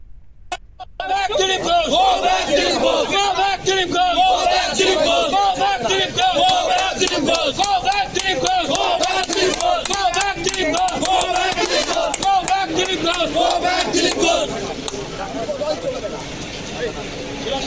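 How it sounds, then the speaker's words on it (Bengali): Crowd of BJP supporters chanting "go back" slogans at Dilip Ghosh, a dense, loud, rhythmic mass of shouting voices that runs almost without a break and eases slightly near the end. "একাংশ বিজেপি দলীয় কর্মী সমর্থকরা গো ব্যাক স্লোগান দেয় দিলীপ ঘোষকে"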